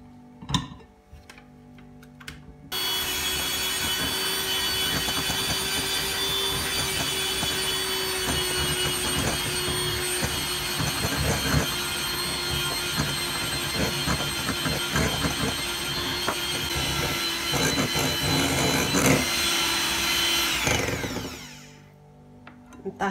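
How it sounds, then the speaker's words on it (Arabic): An electric mixer beats chocolate cake batter at low speed while flour and cocoa go in bit by bit, giving a steady, close whirring drone that runs for about eighteen seconds before cutting off, with no talking. "هلا انا وعم بخفق على سرعة خفيفة بحط شوي شوي من الطحين والكاكاو"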